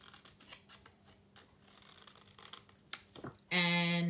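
Scissors snipping roughly through paper to cut simple leaf shapes for a scrapbook page, a scattering of short close cuts and rustles, then a sudden louder tonal burst at the very end.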